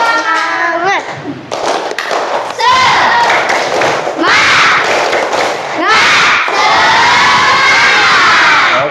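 A crowd of children cheers and shouts loudly, with bursts of rhythmic clapping and thumps throughout, voices rising in excited waves.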